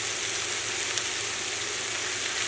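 Sliced onions fry in a skillet, a steady, even sizzle that fills the whole stretch at moderate loudness, with no voices over it.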